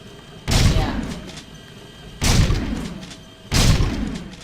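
Heavy gunshots from the video game Jak II fire in three separate booming bursts, each with a loud thudding attack and a fading rumble, spaced about two seconds apart.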